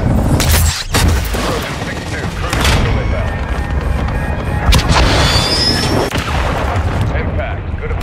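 Air strike explosions in Call of Duty: Modern Warfare 3, deep booming blasts and rumbling impacts rolling one after another, with radio voices speaking over the battle noise.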